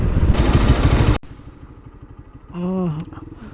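A motorcycle rolls along slowly on a highway ride. A loud burst of wind and engine noise drops abruptly into a soft, low, pulsing engine putter, and a brief tonal whine rises near the end.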